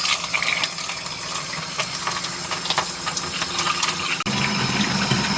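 Steady rushing hiss of tap water pouring from a faucet through a plastic tube into a washing machine tub, loud and close and continuous with a brief dropout near the end.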